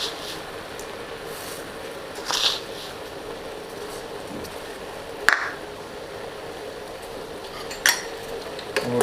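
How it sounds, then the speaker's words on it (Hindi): A spoon stirs sugar into simmering tulsi tea in a pot, making a few scattered metallic clinks and scrapes over a low steady bubbling background, fairly quiet and without speech. "देखिए दोस्तों चीनी इसमें मिला रहे हैं"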